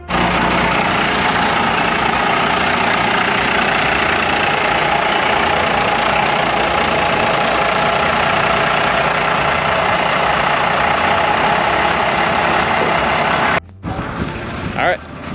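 A 1979 Ford F350 long bed factory 4x4 truck with its engine running, a loud, dense, continuous roar that fills the scene, breaking off abruptly near the end.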